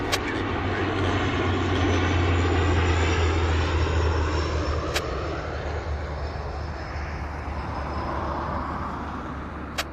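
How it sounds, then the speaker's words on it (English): Steady loud roar of an aircraft engine holding at the end of a runway at Vancouver Airport, sustained and fairly close for the whole stretch with a slight swell and fade, no talking. "We'll wait for that aircraft to depart."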